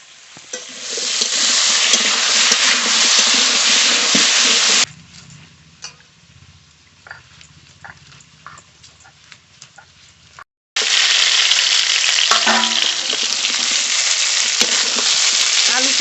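Potatoes fry and sizzle loudly in a pan as they are stirred, a dense hiss broken by a quieter pause with scattered scraping and clinks before the sizzle resumes at full strength.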